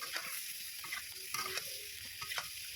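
Boiled potatoes and spices, including ground coriander, are sautéed in a pan with a low sizzle and repeated spatula scrapes and clicks, close and quiet, without speech.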